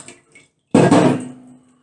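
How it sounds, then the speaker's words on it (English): Water poured onto a bar of cold process soap made with olive and coconut oil, a short splashing pour that starts suddenly, runs for about half a second and then trails off, after a few faint taps. "So we'll just give that a little bit of the water."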